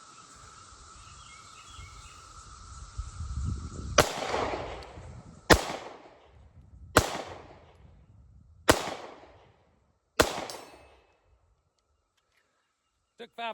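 Five sharp 9mm pistol shots from an FN Reflex micro compact, fired at a target 80 yards away, crack one by one at roughly one-and-a-half-second intervals, each with a short echo tail, after a low hum and brief ambient noise.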